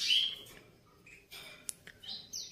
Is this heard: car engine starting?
no